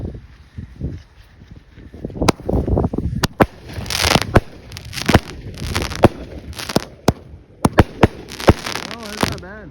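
Fisherman Fireworks cake erupts outdoors with a rapid run of sharp pops and crackling bursts, loud and close, mixed with some talk and movement in the background.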